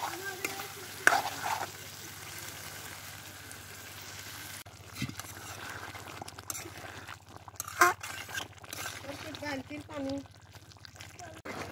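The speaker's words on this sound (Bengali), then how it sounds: "ছোট চুলায় ছোট কড়াই ছোট্ট মুরগি রান্না করি।" Native chicken stirred and cooking in a small pan on a small stove, giving a soft ongoing sizzle with occasional scrapes and clinks of the spoon, while someone talks over it.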